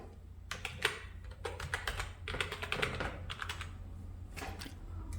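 Quick bursts of key presses as a password is typed on a Mac keyboard while a macOS update is installed, close and crisp clicks in several short runs with pauses over a low background hum.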